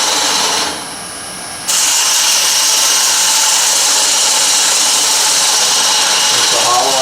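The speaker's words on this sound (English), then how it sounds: "Then I'm using my round nose scraper." Wood lathe spinning a vase centerpiece while a round nose scraper hollows it, a steady loud broadband whir and scrape with a brief dip near the start, close up and continuous.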